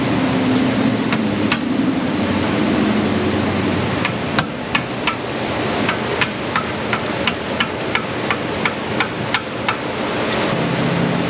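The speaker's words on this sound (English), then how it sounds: "now I had to go get my actual hammer just to speed up the process" Sharp metallic hammer strikes ring out in an auto repair shop in an irregular series over a steady background roar, some blows quick and clustered.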